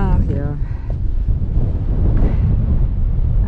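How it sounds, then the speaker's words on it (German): Strong wind at the dam of the Lichtenberg reservoir in the Erzgebirge, rumbling loudly and steadily against the microphone throughout, with a voice speaking briefly at the start. "Ah, hier geht ein ganz schöner Wind."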